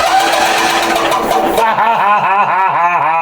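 A Wheel Horse C-175 lawn tractor engine cranks over, loud and close, with a rapid rhythmic churning of the starter that settles into an even pulsing pattern in the second half, and no talking.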